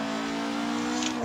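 Car engine revving steadily at high pitch in the Assetto Corsa racing game during a drift session, a continuous loud droning tone with no talking.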